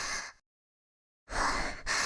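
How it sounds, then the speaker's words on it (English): A woman in a video game breathes heavily, with a loud breathy exhale, a second of silence, then a longer drawn breath and another close, noisy breath. "does this person seem like she's making breathing noises?"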